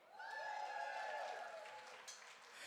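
A festival crowd in a room at a shellfish festival breaks into cheering and applause, a swell of clapping and whoops that rises fast, holds, then tapers off at a moderate distance.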